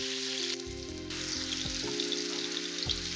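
Onions fry lightly in oil for a Bengali white egg korma, giving a continuous close sizzling hiss with a few soft pops and clicks over a low steady hum, no voices.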